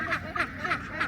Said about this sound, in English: Look how small these ducks are.